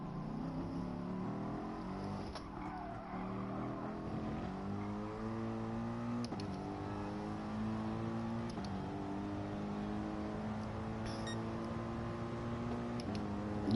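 A Group 3 Citroen race car engine in Gran Turismo Sport revs through repeated gear changes, its tone climbing and then dropping at each shift over a steady drone, with no talk.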